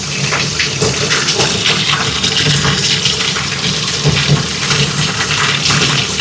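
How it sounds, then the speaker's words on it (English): Loud, steady rush of hot water pouring from a tap into a laundry sink with a greasy, lint-clogged drain, close up and continuous with a gurgling, splashing texture. "We're gonna keep that hot water running."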